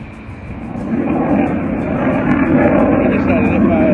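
Fixed-wing airplane taking off at Darwin airport, a broad steady engine roar that swells and holds loud for several seconds, with a faint voice present.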